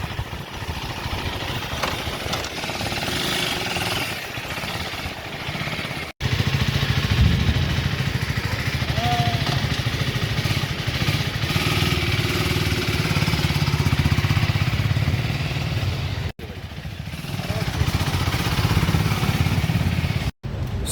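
A third-generation 2024 KTM Duke 390 motorcycle runs at a showroom, its single-cylinder engine and loud exhaust thrumming close by, idling then swelling into sustained revs with brief abrupt cuts.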